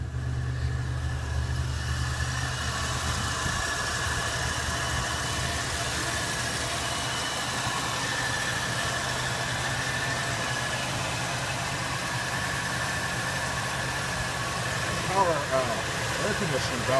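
An Oldsmobile Delta 88 car engine idles steadily on high idle with the choke on, a low, constant hum close by, with a faint rattle near the end; the air conditioning belt is loose and wobbling.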